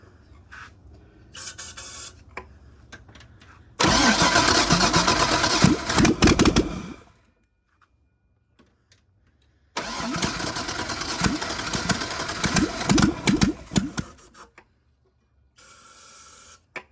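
An LS V8 swapped into a budget BMW E36 fires up in two loud, rough bursts of several seconds each, revving unevenly and dying into silence between them, with a shorter third burst at the end.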